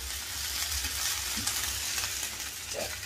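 A sago dosa fries on a hot pan with a continuous close sizzle, joined by light scraping and a soft clatter as the thin pancake is flipped.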